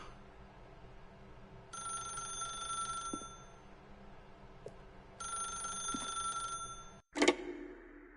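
Telephone ringing in The Stanley Parable: two bursts of bright electronic bell ringing separated by a pause, moderately loud and close, followed by a sharp click as the receiver is picked up, with no talking.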